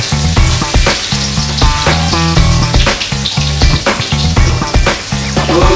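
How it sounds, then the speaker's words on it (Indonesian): Anchovies fry in reused oil, a loud continuous sizzle and crackle that fills the foreground, with music playing over it. "kita goreng ikan bilis dengan minyak yang sama kita"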